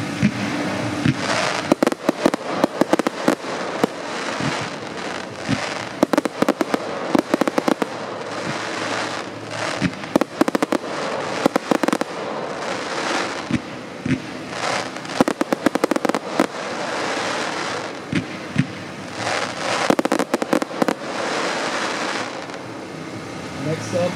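A 100-shot fan firework fires silver chrysanthemum shells with silver crisp mine, a long barrage of sharp bangs and crackling bursts in rapid succession, loud and continuous, with voices talking over it.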